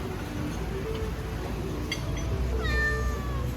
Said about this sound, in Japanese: にゃーんと来たか。